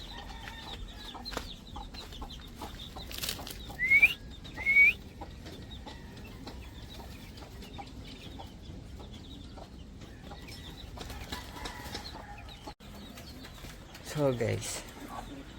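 A Tiger Andalusian chicken gives a few soft clucks and short calls amid outdoor ambience, with two louder rising calls and a burst of clucking near the end, while someone talks briefly.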